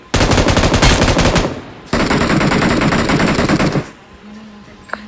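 Rapid automatic gunfire from the PUBG video game rattles loud and close in two long sustained bursts, then goes quiet, leaving faint background sound and a single soft click.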